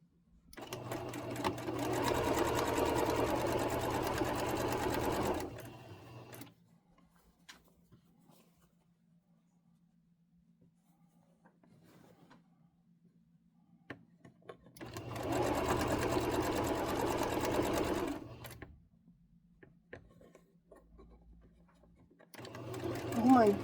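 Sewing machine stitching a seam on a vintage quilt block, running in two long loud bursts of steady whirring separated by a quiet pause with a low hum, then starting again at the end.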